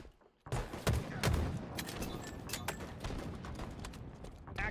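Video game gunfire erupts after a brief quiet start, a rapid fusillade of sharp close shots with several louder cracks standing out, continuing in bursts over a dense noisy background, with no talking.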